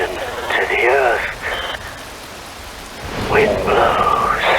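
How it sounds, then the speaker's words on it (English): Rain and thunder in the Metal Gear Rising video game, a steady hiss of rainfall with low rumbling beneath, partly covered by a voice speaking over it in two stretches. "Rain falls."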